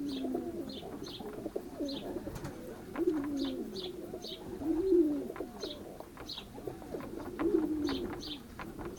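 Repeated low, rolling coos from several racing pigeons returning from a race, fairly close, with faint high chirps from small birds scattered in the background.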